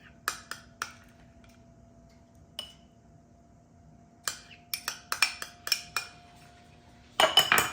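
A spoon clinks against a glass jar while layering yogurt onto tiramisu overnight oats, sharp scattered taps spread unevenly with quiet gaps, ending in a rapid cluster of clatter.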